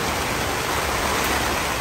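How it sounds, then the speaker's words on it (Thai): Heavy wind and rain lash a campsite at a Khao Yai Thiang wind farm, where a tent and awning room are pitched beside an Isuzu MU-X; a steady, loud broadband roar fills the whole stretch with no talking. "ทั้งลมทั้งฝนนะคะทุกคน"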